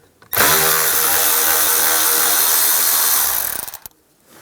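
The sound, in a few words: removing screws with a T15 driver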